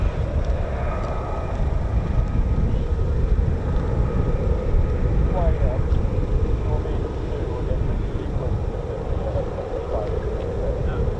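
An F-35 fighter jet on a straight-in approach to runway 23 with RAF 617 Squadron, a steady broad jet roar holding loud and even throughout, with voices talking faintly underneath.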